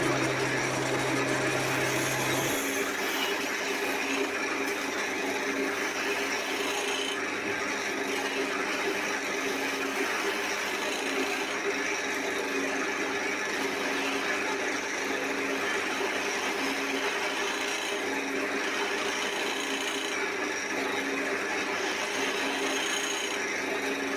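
A chisel is worked by hand into wood, giving a continuous close rasping scrape that holds steady and fairly loud for over twenty seconds under a faint background hum.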